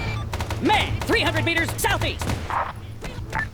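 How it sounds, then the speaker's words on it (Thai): Heavy sustained gunfire in the military shooter Arma 3, with dense bursts and volleys at a steady loud level. A voice talks over the shooting. "เราโดนยิงกดดันหนักมาก"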